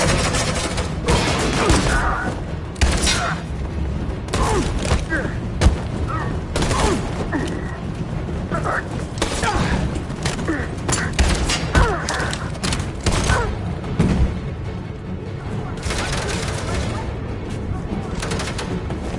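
Sustained gunfire fills a combat scene in Detroit: Become Human, with dense bursts of shots, thuds and crashes overlapping continuously, loud and close, while people shout over the shooting.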